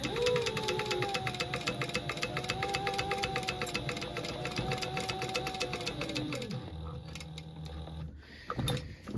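A sewing machine stitching fabric binding, a fast steady mechanical whir for several seconds that slows and stops, followed by a few clicks and handling noises, close by with no talk.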